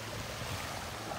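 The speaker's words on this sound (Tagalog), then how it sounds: "Kaya malakas ang alon dito" Strong waves on Kitanowaki beach in Anan City on the Japan Sea, a brief, steady roar of surf mixed with wind rumble.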